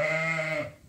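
A single close, loud sheep bleat rings out in a lambing barn with ewes and their lambs, holding steady before trailing off near the end.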